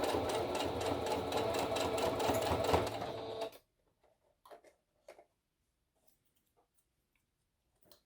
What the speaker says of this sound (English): So let's go to the sewing table. Let's sew this.